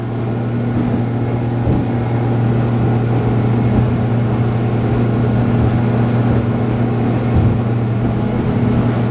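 An XO EXPLR 9 motorboat runs at speed, around 28 knots, its engine a loud, steady drone with a constant hum and rushing water and wind throughout, no talking.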